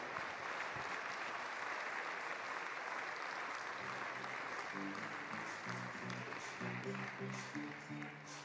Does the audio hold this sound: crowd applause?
yes